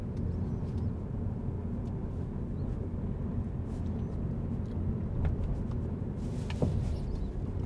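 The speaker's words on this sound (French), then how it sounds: "On accélère. Si on peut accélérer, on accélère. On accélère encore." A driving-school car accelerates, giving a steady, moderately loud low engine rumble with road and wind noise throughout and no talk over it.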